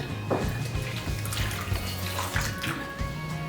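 Water is poured steadily into a salt and bulgur mix for Mardin kubba, a continuous close splashing stream with brief clinks over a low background hum.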